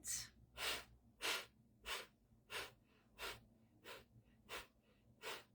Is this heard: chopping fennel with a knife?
no